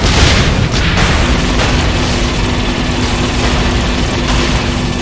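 Cannon fire and rocket explosions from the video game Saints Row IV form a loud, continuous wall of booming blasts with no break and no clear speech.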